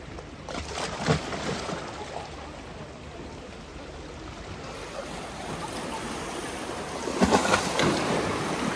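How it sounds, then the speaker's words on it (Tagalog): Sea waves wash onto the shore at Sharp Island Beach, a steady broadband roar with a louder surge near the start and another near the end, with no speech over it. "Oh, may alon!"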